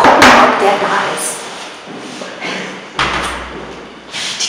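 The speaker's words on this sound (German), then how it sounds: "Die Tür ist offen." An office door at the Berlinale 2015 in Berlin is opened with a sharp knock-like clack, then another thump a few seconds later, amid echoing room noise and faint voices.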